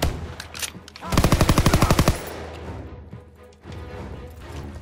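Call of Duty: WWII game audio carries a loud burst of rapid machine-gun fire lasting about a second, with scattered lighter shots and battle noise before and after.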